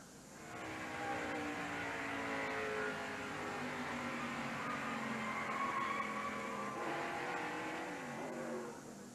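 Stock cars in a 1990 NASCAR Winston Cup race battling for position into turn 1, a dense, roaring wall of engine noise swelling and holding with shifting pitch, then dipping as the pack moves on.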